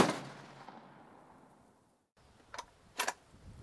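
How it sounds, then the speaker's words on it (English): A gun fired from a shooting bench at a range: a loud report decaying into a long echo, then after a short gap two more sharp, distant-sounding bangs. "Good shooting so far."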